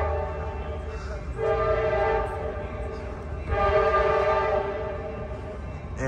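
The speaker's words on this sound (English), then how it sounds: "here comes 718, Comet Car 7 returning" Amtrak San Joaquin train #718 pulls into the station with a Comet car, sounding a loud sustained horn in two long blasts over the low rumble of the moving cars.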